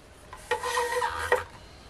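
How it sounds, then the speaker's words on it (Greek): Cabbage salad with parsley is stirred by hand, giving two short close scraping rubs of utensil and leaves in a bowl over about a second, alone and fairly loud. "ανακατεύω"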